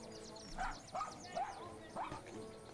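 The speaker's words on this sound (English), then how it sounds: "Dogs." Several dogs bark and yip in short separate bursts as an ambient sound effect in a tabletop fantasy session, moderately distant over a faint background hum, with some voice underneath.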